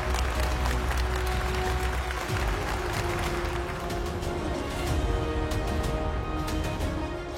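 Applause at an awards ceremony as a jury member walks on stage, a full, loud, sustained round of clapping from a large audience with some crowd murmur beneath.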